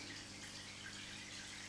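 Water pouring steadily downward from the outflow of an OASE CrystalSkim 350 pond skimmer, a continuous faint splashing hiss without pauses or voices.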